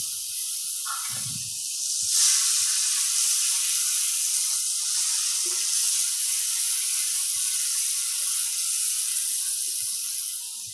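Mustard-seed tempering spits and sizzles in a pan while ghee podi rice is cooked, a steady hiss running throughout with a few louder pops near the start.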